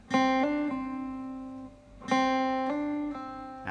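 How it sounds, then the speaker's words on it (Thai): Plucked acoustic guitar notes ring out in two phrases, each with quick slurred pitch changes as notes are hammered and pulled off, played clearly with no talking. "แล้วก็เล่นแฮมเมอร์ออนพูลออฟที่ตำแหน่งเดิมนะครับ จะได้เสียงนี้นะ"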